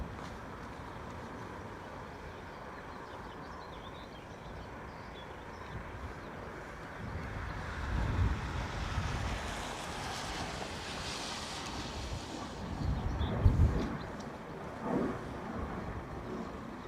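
Gusty crosswind of around 30 knots at Dublin Airport, buffeting the microphone as a steady roar that swells in stronger gusts midway and near the end, with no voices.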